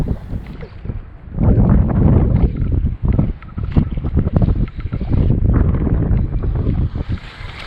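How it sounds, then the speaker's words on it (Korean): Strong gusts of wind buffet the microphone beside a reservoir in Jeolla Province during bass fishing, with loud rumbling bursts that surge and drop over several seconds and no talking. "아, 바람 겁나 부네."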